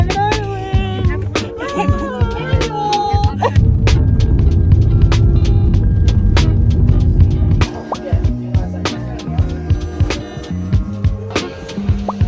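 A car driven on roads in Ireland, with a low rumble of road and engine noise that swells loudly in the middle, scattered knocks and clicks, and voices talking at the start and end.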